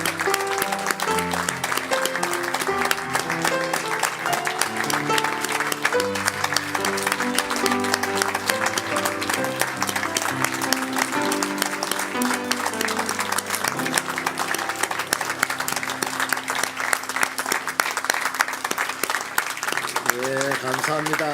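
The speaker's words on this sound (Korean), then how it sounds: "계속해서 힘차게 박수 주세요." A church congregation claps steadily and vigorously at a Sunday service, the dense applause running for over twenty seconds beneath music and a voice.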